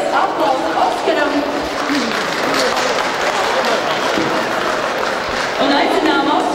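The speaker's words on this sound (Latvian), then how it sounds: "un vēlreiz aplausu Oskaram." Audience applause at a business awards ceremony in Aizkraukle, a dense steady clatter of clapping filling the room for several seconds, with voices mixed in.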